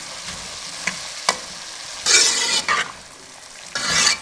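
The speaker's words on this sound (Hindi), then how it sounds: "अब इसमें हम 1 टेबलस्पून अचार मसाला शामिल कर देंगे।" Potato bhaji with pickle masala is stirred in a pan: a low sizzle with sharp spoon taps, then bursts of loud, scraping, frying hiss as the mixture is turned, no voices.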